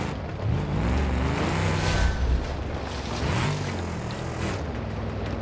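A monster pickup truck's engine drones loudly in BeamNG.Drive, a steady rumbling roar with rising and falling revs as it takes tight curves over water, dirt and rock terrain.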